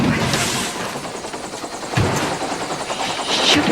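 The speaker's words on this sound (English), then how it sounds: "What's that? It's a helicopter." A helicopter draws near with a loud, steady rotor thump and broadband engine roar that swells toward the end, with no speech over it.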